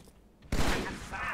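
Burst-fire gunshots from Halo: Spartan Strike, a sudden loud crackling burst that starts midway and rattles on to the end, after a quiet moment.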